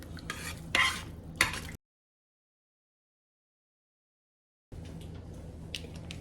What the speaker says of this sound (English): Now we're going to mix it all together.